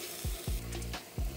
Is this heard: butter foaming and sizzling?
yes